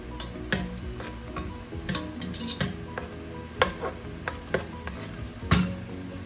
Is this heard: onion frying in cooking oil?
yes